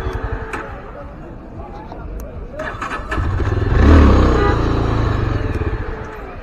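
A motorcycle engine at an outdoor Eid gathering in Lolab, Kashmir, starting up and revving into a loud, close rumble that peaks and then settles to a steady idle, with background chatter and faint voices.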